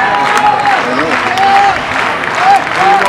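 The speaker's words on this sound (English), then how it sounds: "Fans are clapping." Baseball fans clapping in the stands at a minor-league game between the Long Island Ducks and Bridgeport Bluefish, steady crowd applause with a few whistles, heard under a play-by-play announcer talking.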